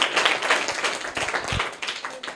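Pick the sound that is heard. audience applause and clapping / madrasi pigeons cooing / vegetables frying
audience applause and clapping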